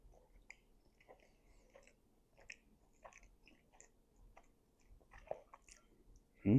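Someone eating a snack made with M&Ms, chocolate and syrup: close, quiet chewing with soft crunches and wet squishes in an irregular rhythm, no talking, ending in a short louder burst.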